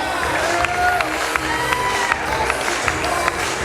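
Guests at a wedding reception clap and cheer for the bride, a lively burst of crowd noise with scattered claps, whoops and overlapping voices.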